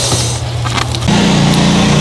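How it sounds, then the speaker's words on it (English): A lawnmower engine drones steadily in the background, its pitch stepping up partway through as it revs, with no talk. "Sorry for the lawnmower in the background."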